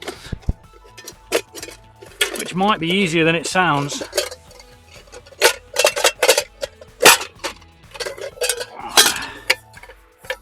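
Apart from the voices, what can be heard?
beating dented Trangia 25 cookset panels back out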